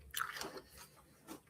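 Crunchy sour fruit, tart like a sour apple, being bitten and chewed up close, with a few wet crunching bites in a short burst and no talking.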